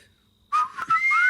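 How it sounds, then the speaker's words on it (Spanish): Clear whistling starts after a short quiet stretch, a couple of sustained high tones with a brief break between them, fairly loud and close. "Me gusta cuando silbas conmigo."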